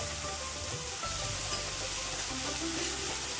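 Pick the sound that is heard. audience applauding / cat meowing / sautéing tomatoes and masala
sautéing tomatoes and masala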